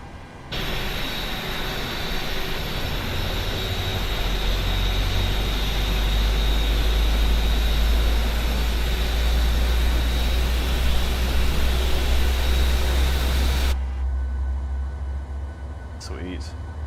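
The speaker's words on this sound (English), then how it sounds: "I'm gonna turn the sounds up for engine start." Jet engine spooling up during startup in Microsoft Flight Simulator, with a steady loud roar and deep rumble holding for about thirteen seconds before dropping to a quieter hum.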